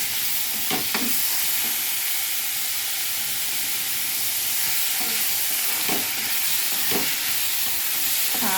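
Tomato pieces frying in oil with turmeric and chili powder, a steady close sizzle and hiss with a few stirring scrapes of a spoon against the pan.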